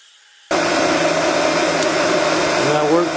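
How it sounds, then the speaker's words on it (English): A heat gun blows a steady, loud broadband whoosh onto a stuck hose on a 2002–2005 Toyota Camry 2.4L 2AZ-FE engine, starting abruptly after a brief quiet moment and holding constant with a faint shift near the end. "So I'm going to try the old heat up the hose."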